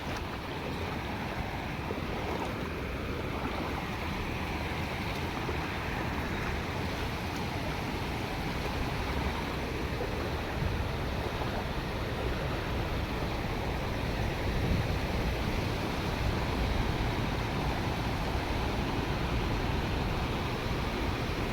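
Stream water rushing steadily around someone wading through it along an eroded rural village track, a continuous broadband wash with no talking.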